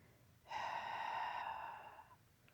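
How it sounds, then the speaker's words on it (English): One slow, audible exhale through the nose or mouth, starting abruptly and tapering off over about a second and a half, close and quiet against a hushed room. "Now exhale slowly."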